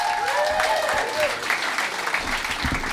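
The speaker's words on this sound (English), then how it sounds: "keep that applause going for your next competitor, the very funny, the hilarious Mayce Galoni." Audience applause fills a comedy club at a stand-up competition in Vancouver, a dense, steady wash of clapping with some cheering that stays loud throughout as a host's voice rises over it.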